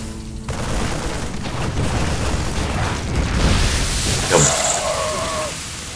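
Banelings exploding on marines in StarCraft 2: a dense, continuous barrage of close bursts and pops forming a rumbling roar, with a brief high chime near the end and no talking.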